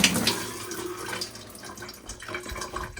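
A faucet with weak water pressure runs in a shipping container home in Alaska, a close, continuous hiss and splatter with no one talking.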